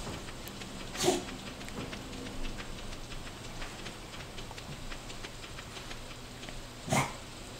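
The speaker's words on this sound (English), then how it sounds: "Excuse my dog, he's going nuts behind me, ripping up the new toy I bought him." A dog tears into a new toy in a quiet room, heard as two sharp, brief bursts several seconds apart over a low steady background hum.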